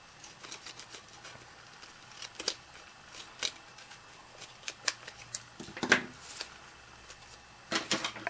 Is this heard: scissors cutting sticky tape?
yes